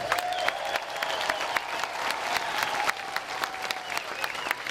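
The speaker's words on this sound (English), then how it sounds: "let's just give a round of applause for Priscilla Presley" A large audience at a live Elvis tribute show in 2014 claps steadily in dense, sustained applause, loud and close, with a few faint shouts mixed in.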